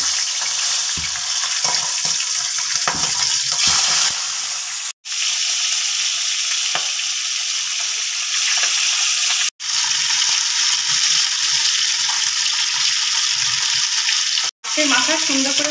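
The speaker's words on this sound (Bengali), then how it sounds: "আমরা এবার সবার আগে মাছটা ভালো করে ভেজে নেব" Fish heads sizzle and spit steadily in hot oil in a wok, a loud, continuous crackling fry broken by a few brief dropouts.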